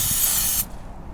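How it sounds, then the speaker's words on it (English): Throttle body cleaner sprays from an aerosol can onto a Mazda 6 throttle body, a close, loud, steady hiss lasting over half a second that stops abruptly, leaving quieter residual noise. "Make sure you use a cleaner engineered specifically for throttle bodies."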